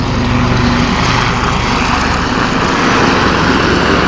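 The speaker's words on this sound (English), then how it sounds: "As the aircraft run in from the left, you'll see the distinctive silhouette of the Lynx Mark 8." Westland Lynx Mark 8 helicopters fly past at the Duxford Air Show, a loud, continuous rotor and turbine roar with steady buzzing blade chop that stays close and heavy throughout.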